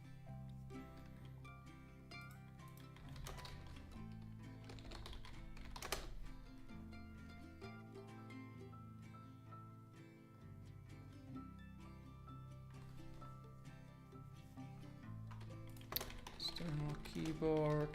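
Typing on an external computer keyboard during a live coding session, a soft, continuous patter of keystrokes running under a steady background of music-like tones and occasional talk.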